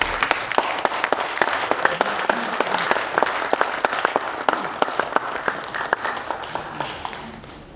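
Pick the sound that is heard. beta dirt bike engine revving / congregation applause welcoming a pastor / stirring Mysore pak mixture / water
congregation applause welcoming a pastor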